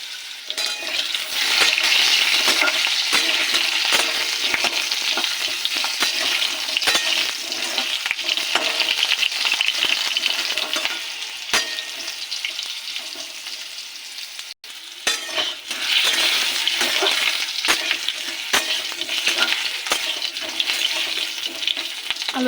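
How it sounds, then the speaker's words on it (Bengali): Long-cut potato pieces fry in hot oil in a pan, a steady bright sizzle running nearly throughout with occasional stirring clicks and a brief dip midway, no talking. "আলুটাকে একটু ভেজে নেব, লম্বা লম্বা করে আলু দিয়েছি।"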